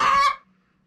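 A backyard chicken on a desert homestead gives a single close, loud cluck that breaks off quickly into silence.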